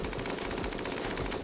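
Machine gun fire in the video game Crazy Gold Seeker is a dense, continuous rattle of rapid shots that holds at an even, fairly loud level for the whole brief stretch, with no voices.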